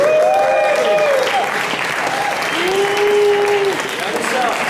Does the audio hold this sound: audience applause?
yes